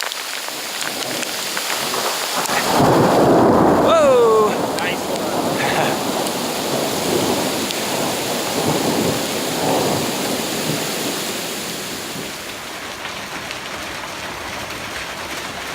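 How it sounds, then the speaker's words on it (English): Heavy rain pours steadily during a mountain thunderstorm in the Sangre de Cristo range while a loud thunder crash rumbles early on, with excited exclamations from a person nearby. "Thundering, lightning."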